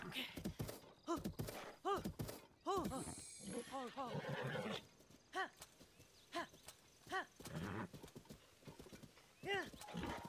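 A horse in the video game The Legend of Zelda: Tears of the Kingdom whinnies several times over rhythmic clip-clopping hooves, loud and close, with someone talking over parts of it.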